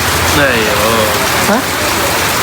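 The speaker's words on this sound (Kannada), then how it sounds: "ನೋಡಿಲಿ ಮಳೆ ಹೆಂಗ್ ಹುಯ್ತೈತೆ" Steady, loud hiss of rain pouring down without pause, with a faint whistling tone sliding through it.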